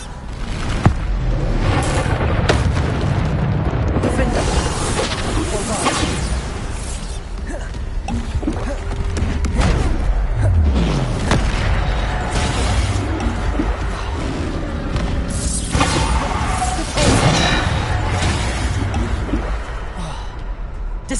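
Spell blasts from a Harry Potter video game, including the Bombarda explosion spell, a steady stream of loud booms, crashes and magical impacts over constant game noise, with a voice calling out spell names throughout.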